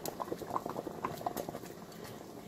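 Cassava leaves boiling in a pot, a soft steady bubbling and popping with scattered small blips, close and low in level, no talking.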